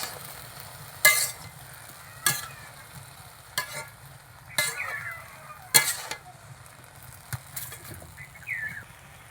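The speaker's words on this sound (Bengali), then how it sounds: "এবার কড়াইতে দিয়ে মাখায় নিচ্ছি।" Jujube pickle with spices being stirred and mixed in a wok, with periodic metallic scrapes and knocks of a spoon against the pan over a soft, steady background hiss.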